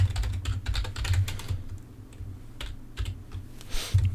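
Rapid typing on a computer keyboard while writing Minecraft mod code in Eclipse, with dense, irregular key clatter that comes in bursts and short pauses, close and fairly loud, with no voices.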